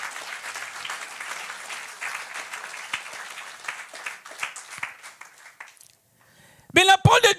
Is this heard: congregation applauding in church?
yes